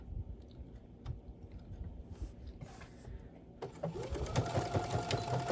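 A sewing machine stitches a back stitch on a small craft bookmark pencil holder, starting with quieter mechanical clicking and then running into a louder, steady whirring hum near the end.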